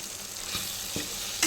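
Diced raw mango and grated coconut fry for mango pulihora in a hot pan, with a steady close sizzle and a few soft stirring scrapes, ending in a brighter clatter.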